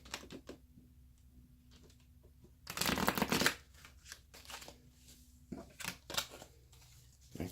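Tarot cards are shuffled in quick riffling bursts, a long dense flurry in the middle and shorter ones after, close and crisp against a quiet room with a faint steady hum.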